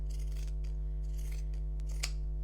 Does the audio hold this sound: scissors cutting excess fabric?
yes